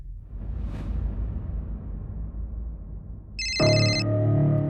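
A telephone ringtone starts about two thirds of the way through and rings loudly and steadily to the end, unanswered, over a low background rumble.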